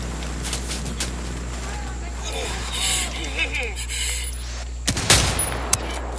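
Mortar rounds fire during a Ghost Recon Wildlands co-op mission, heard as distant thumping rounds with one sharp, loud impact burst near the end, mixed with speech and game background noise.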